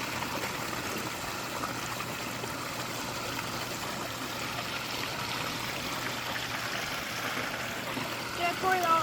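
Water runs steadily through a gem mining sluice at Letchworth while sand is mushed by hand, a continuous soft trickling wash with faint splashing close by.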